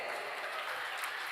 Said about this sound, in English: Yes, deserves a big cheer like that.